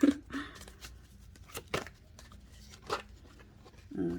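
Tarot cards being shuffled up close, a soft papery riffling with a few sharper snaps and slaps, over a low background hum.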